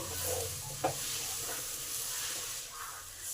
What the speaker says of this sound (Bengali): দু মিনিট নাড়বো যাতে চাল আর ডালের সঙ্গে ভালোভাবে এই মশলাটা মিশে যায়